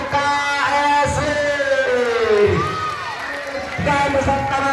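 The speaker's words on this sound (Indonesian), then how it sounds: "dan pastinya tepuk tangan untuk" A loud crowd of children at a school literacy and nutrition event claps and cheers steadily while voices call out over the noise.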